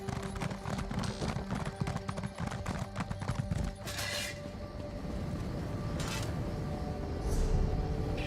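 Horse hooves clip-clop in Elder Scrolls Online, a Covenant horse trotting around the city of Riften, a steady rhythmic beat of moderate loudness over a busy game background with music-like tones.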